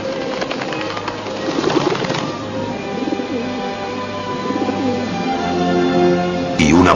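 A dove coos softly in a film scene of Jesus's baptism, low repeated calls running under a steady wash of ambient sound and music, with a louder swell near the end.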